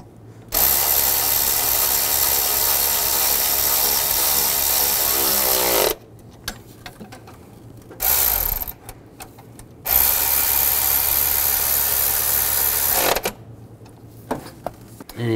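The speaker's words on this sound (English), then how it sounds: "Now I'm going to snug up the bolts." A ratchet tightens the water pump bolts on a 2010-2017 Chevrolet Equinox in three loud, close bursts of rapid, steady clicking. Short quiet gaps separate the bursts.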